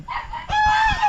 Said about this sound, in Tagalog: Yung mga manok natin nandyan.